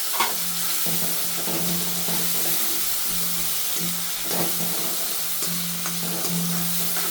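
Chopped onion sautéing in a pan while cooking a green chickpea curry, giving a steady close sizzle and fry hiss with soft stirring scrapes throughout, no voices.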